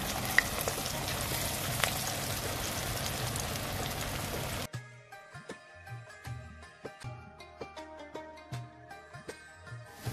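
Cabbage pakoras dropped by hand into hot oil sizzle in a loud, dense, continuous hiss for about four and a half seconds. The frying noise then cuts off and music takes over.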